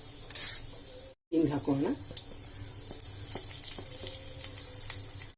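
Cumin and turmeric sizzle in hot oil in a home kitchen, a steady crackling fry that starts loudly after a brief gap and keeps going underneath a short spoken remark and some clinks.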